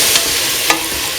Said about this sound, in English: Mix the winter melon pieces